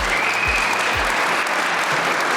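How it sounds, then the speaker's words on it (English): A real estate office hosts a community gathering where the audience gives a round of applause, dense steady clapping throughout with a few low thumps beneath, no talk. "A round of applause for Balcones Real Estate for hosting us."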